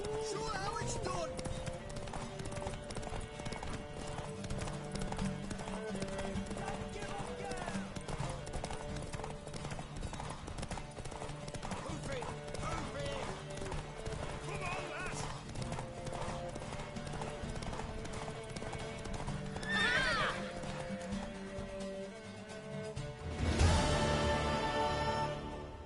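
Hooves clip-clop steadily through a horse race in The Witcher 3, with a brief whinny near the end, all beneath game music and voices talking over it.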